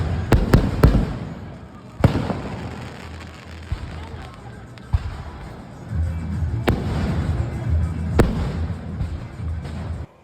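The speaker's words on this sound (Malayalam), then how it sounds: "പിന്നെയാണ് നമ്മൾ വെടിക്കെട്ട്." Fireworks at the Thrikadamanna carnival: sharp bangs burst at irregular intervals, several in quick succession at first, then single loud cracks, all over a steady rumble and the babble of a crowd.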